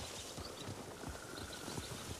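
Horses gallop in Ghost of Tsushima, a quick run of soft, muffled hoofbeats repeating steadily under a hissing, noisy backdrop, moderately distant and fairly quiet.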